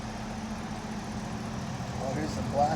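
A black Chevrolet Corvette engine idling steadily outdoors in the rain, a low rumbling drone throughout that swells slightly toward the end, with people talking nearby.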